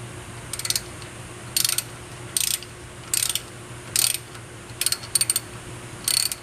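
Ratchet wrench loosening a brake caliper bolt on a Ford truck, about eight short bursts of rapid clicking separated by pauses, close and crisp over a quiet hum.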